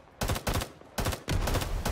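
Automatic rifle fire in the Vietnam War shooter Rising Storm 2: Vietnam crackles in four loud, rapid bursts of shots with short gaps between them.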